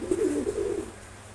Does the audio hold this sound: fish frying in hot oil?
no